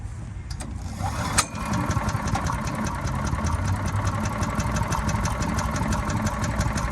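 A Predator 212cc engine on a Harbor Freight wood chipper runs steadily at a fast idle, a close, continuous mechanical chugging with a rhythmic ticking clatter, after a brief click near the start.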